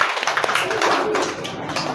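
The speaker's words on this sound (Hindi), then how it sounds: "बिल्कुल ऋषभ के लिए तालियां हो जाए।" A classroom group claps for a student named Rishabh during an English reading lesson, a brief burst of scattered, uneven hand claps lasting about two seconds at close range.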